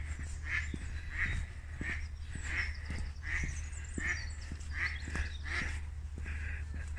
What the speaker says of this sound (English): Three geese flying over the pond.